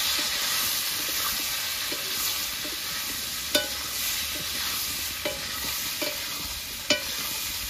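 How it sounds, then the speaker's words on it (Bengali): Rohu fish curry with taro frying in a pan as salt and turmeric go in, giving a steady close sizzle with a few sharp clinks of the spoon against the pan while stirring. "হলুদ দিয়ে দিয়েছি, আবার নেড়ে চেড়ে নেব"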